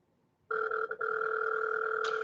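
Inside a busy Walmart store, an electronic telephone-like ring starts abruptly and holds as a steady two-tone trill, loud and close, with no talk over it.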